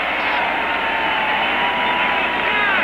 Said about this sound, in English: The roar of the crowd in the background.